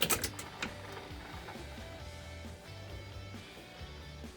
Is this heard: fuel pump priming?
yes